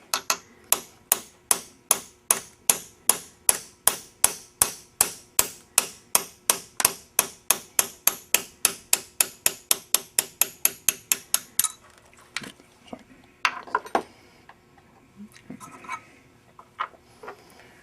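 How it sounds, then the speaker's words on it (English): A brass punch is struck with a hammer to drift a pistol's dovetail front sight, a rapid run of about forty sharp, loud metallic taps at a steady rhythm, followed by a few scattered softer knocks and handling sounds. "Then using a brass punch,"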